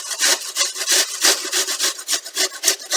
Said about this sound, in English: And grate